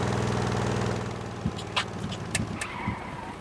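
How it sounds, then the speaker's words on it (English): A vehicle in the game Stormworks drives with a steady engine drone that eases off as it brakes, with a few short clicks and knocks over the running motor, and no voices. "So that was me using my brakes right there."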